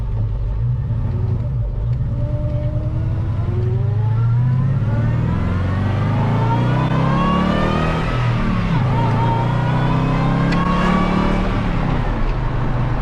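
Supercharged LS V8 in a hydrogen-powered classic muscle truck, revving up and down in long loud sweeps with a deep rumble and rising supercharger whine, close and continuous.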